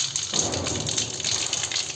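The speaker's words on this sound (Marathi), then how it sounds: "आता आपण सगळ्यात पहिले मोहरी घालून घेणार आहोत" Mustard seeds sizzling and crackling in hot oil as tempering begins for a Diwali thin poha chivda, a dense, steady frying hiss lasting throughout, close and fairly loud with no talk.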